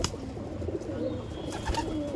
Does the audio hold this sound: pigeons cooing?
yes